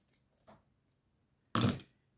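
Scissors cut through a piece of Advent calendar decoration, giving a short, faint snip followed after a pause by a louder, crisp cutting burst, with no talk.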